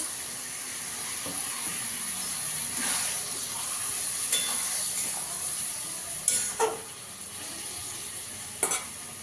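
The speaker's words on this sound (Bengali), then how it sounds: "লাল লাল করে ভেজে দেবো আলু পেঁয়াজটা" Potatoes and onions frying in a pan, a steady hiss and sizzle with a few sharp stirring scrapes and clinks close by.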